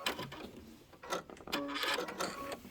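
A sewing machine stitches the outer border of a quilted table topper, with quiet, close bursts of rapid mechanical whirring and clicking broken by short pauses.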